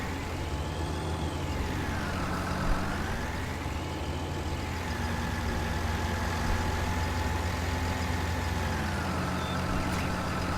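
A tractor idles in the Farm Simulator 19 video game, a steady low engine rumble with a slowly wavering tone that rises and falls, constant and moderately close with no talk.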